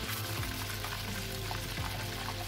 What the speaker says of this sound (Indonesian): Nah, ini kita goreng terlebih dahulu ikannya.